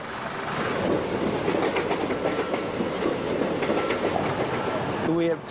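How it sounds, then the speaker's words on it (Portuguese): A British local train rumbles past close by with rhythmic clattering of wheels on rails, a steady loud roar throughout and a brief squeal near the end. "Mas os trens locais vão e vêm dia e noite."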